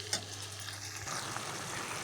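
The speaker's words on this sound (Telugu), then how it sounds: "మిక్సీ పట్టుకున్నాం కదా టమాటీలు, అవి వేసుకొని కలబెట్టుకుందాం." Ground tomatoes hit hot chicken curry with a sharp splash, then a steady sizzle and frying hiss continues as the pan is stirred, close and loud with no talking.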